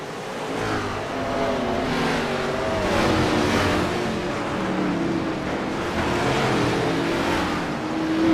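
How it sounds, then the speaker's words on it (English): Race cars in a sim racing game roar through the gears on a restart at the Charlotte Roval, a dense, continuous engine drone with rising revs and layered cars, steady and loud throughout. "Pace car is off. Friedrich through the gears. Let's go racing at the Roval"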